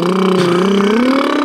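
A lawn mower engine, dubbed in, holds a loud, steady droning tone that rises slightly in pitch toward the end, with nothing else in the sound.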